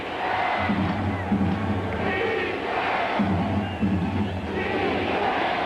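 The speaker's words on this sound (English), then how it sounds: "Crowd chanting defense." Football stadium crowd chanting "defense" at a Vikings versus 49ers game in 1993, a loud massed crowd roar with a repeated two-beat chant rising and falling in regular cycles.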